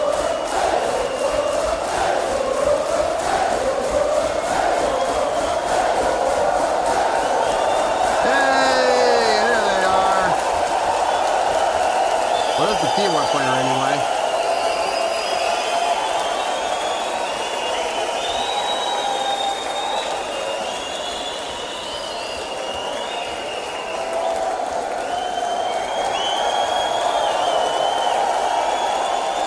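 A concert crowd at a show cheers and applauds while waiting for the band to return for an encore, a broad sustained roar of voices with whistles, with someone talking over it.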